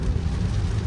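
Heavy rain pours down steadily in a dense, low, rumbling wash, heard from inside a vehicle on the road, with no pauses.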